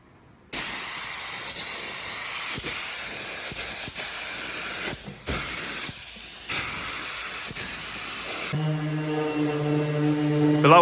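Paint is sprayed onto a Centurion 165 AVRE tank hull in a continuous loud hiss that cuts in and out in short bursts, and near the end a steady tonal hum takes over.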